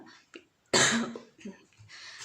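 A single sharp, loud cough bursts out close to the microphone, with quieter breaths and throat sounds before and after it.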